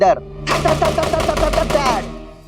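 Rapid burst of automatic gunfire, a dense rattling string of shots lasting about two seconds, loud and close, tapering off at the end.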